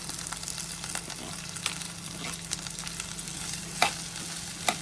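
Washed green beans tossed into a pan of frying garlic and shallots for a Kerala beans stir-fry, giving a steady sizzle with a few sharp spatula scrapes near the end.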